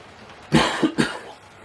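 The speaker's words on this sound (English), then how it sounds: "Got a bit of a cough tonight" Three short, sharp coughs in quick succession, close and fairly loud, the first strongest, followed by quiet.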